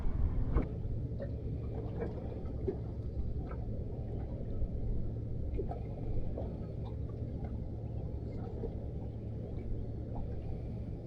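A small boat motors across the Menai Straits toward sandbanks, its engine giving a steady low rumble mixed with water wash, continuous and close throughout.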